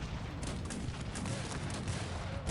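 Dense, continuous rumbling barrage of distant booms and cannon blasts from a battle in the video game Cossacks 3, steady and fairly quiet with no clear breaks.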